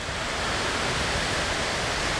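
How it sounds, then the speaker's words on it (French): A waterfall on a river in Norway gives a steady, dense roar of falling water, close and loud, with no breaks and no voices. "La belle cascade d'eau."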